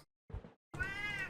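Cat meowing in World of Warships, a game voice sound: a short, low mew followed by a longer, rising, tonal meow, close and clear against silence.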